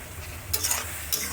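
Spiced masala frying in a pan for a vegetarian cabbage and soybean curry with peas and tomato, with steady low sizzling and two brief bursts of stirring scrapes, close up and with no talking.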